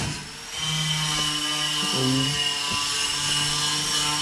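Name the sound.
sanding and levelling a Chevrolet Opala part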